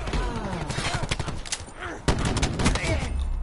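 Video game firefight with gunfire and sniper shots: rapid shots crackle over continuous battle noise, and a sharp, loud report stands out about two seconds in.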